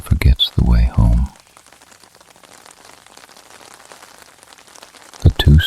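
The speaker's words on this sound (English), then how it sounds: "Rain dripped from the ceiling like slow time" Gentle rain drips and patters softly inside a building on the Italian coast, a faint, steady wash of drops between short bursts of speech at the start and end.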